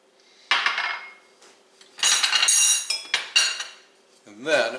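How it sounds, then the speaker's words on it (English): A spoon stirs a potato mixture with three tablespoons of room-temperature butter in a pot off the heat, giving close scraping, clinking bursts of metal against the pot, separated by short quiet gaps. "And then I'm going to stir the potato mixture just until the butter melts"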